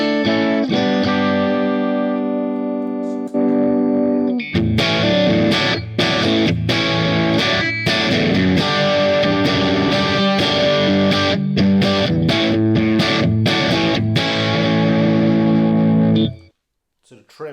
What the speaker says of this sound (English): This is my matchless patch on the bridge pickup.